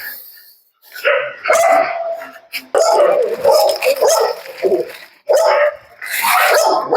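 Dog barks in several bursts close by, mixed with excited talking from people in a yard after a snake scare; the barking overlaps the voices.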